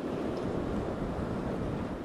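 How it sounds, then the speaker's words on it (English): Tropical Storm Barry drives waves, wind and rain against the Louisiana Gulf Coast near New Orleans, a dense, steady roar of surf and gusting wind with no break. "Waves, wind, and rain began hitting New Orleans and Louisiana's Gulf Coast today"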